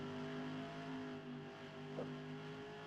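Toyota and Chevy race cars duel bumper to bumper at Eldora dirt track; steady engine drone with harmonic whine, distant and fairly faint, holding a constant roar with a slight swell near the end.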